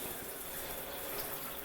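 Hot water running steadily from a handheld shower wand with good pressure, a continuous close hiss of spray with no talking.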